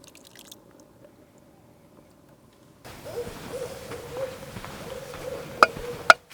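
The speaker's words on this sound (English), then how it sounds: "Y'all hear that owl?" A low, steady owl hoot rises over outdoor background noise at a campsite in Manatee Springs State Park, Florida, with a couple of sharp clicks or taps near the end.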